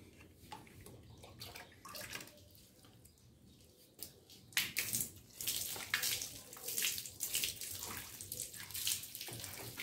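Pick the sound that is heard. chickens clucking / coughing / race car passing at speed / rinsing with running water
rinsing with running water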